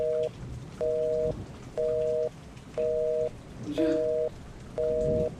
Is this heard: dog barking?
no